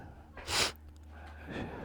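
Sick native backyard chickens on a farm give a single loud, sharp gasping snort partway through, followed by quieter raspy breathing close to the ear, with no one talking.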